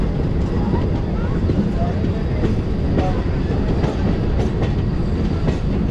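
Train running on rails near Verka Junction in Punjab, on the route toward Amritsar near the India-Pakistan border. A loud, continuous rolling rumble carries rhythmic clattering from the wheels throughout.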